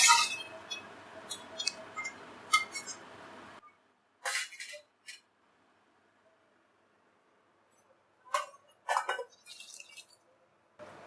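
Chicken soup with whole pieces of ginger being poured through a strainer, giving bursts of close clinks and liquid splashes with quiet gaps between them and no talking.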